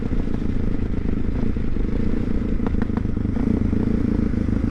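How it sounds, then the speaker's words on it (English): Steady 1999 Suzuki DR650 motorcycle engine rumble with a few sharp crackling pops from the exhaust partway through, close and loud. "You could definitely already hear the popping from the bike."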